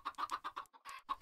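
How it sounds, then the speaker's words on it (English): Chickens in the Minecraft video game cluck in a quick run of short, bright clucks, close and fairly quiet, with no speech over them. "Gosh, there are chickens just everywhere."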